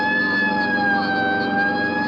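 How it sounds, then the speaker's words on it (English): A 1950s police car siren wails steadily, loud and close, holding a sustained tone without breaks and with no voices over it. "Right, I'll hit the siren."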